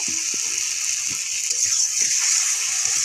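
Cut potatoes tipped into a pan of fried-down tomato for a fish jhal, giving a steady wet sizzle with soft scattered splatters and pan knocks throughout, close and continuous.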